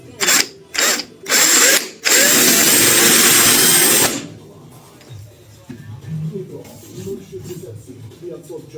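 A power drill runs in several short bursts and then one longer sustained whir, loud and close, during repair work on a classic VW Type 3, followed by quieter workshop handling noises.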